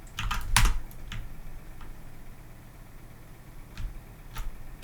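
Computer keyboard keys pressed for moving an Unreal Engine 4 editor camera with WASD: a quick cluster of clicks at first, then sparse single taps spaced out, close and fairly quiet.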